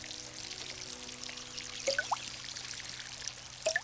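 Plants being watered in the Garten Simulator gardening video game, a soft, continuous pouring trickle of water. A few brief bird-like chirps rise above it.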